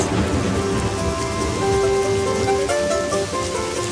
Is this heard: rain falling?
yes